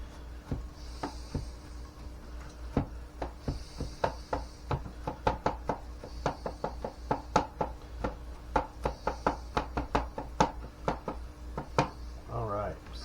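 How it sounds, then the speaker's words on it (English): A knife minces garlic on a cutting board in a kitchen while breakfast tacos are prepared, with quick irregular chopping taps close by that speed into a dense rhythmic run before slowing. "use this knife properly and mince this garlic"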